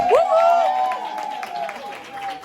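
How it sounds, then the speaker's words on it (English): Guests at a 50th birthday party clap for the winners while a voice lets out a long, rising whoop over the scattered, fairly light applause. "let's give a round of applause for our winners"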